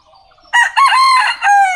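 A village rooster crows loudly and close at dawn, its drawn-out call starting after a faint lead-in and holding in broken stretches.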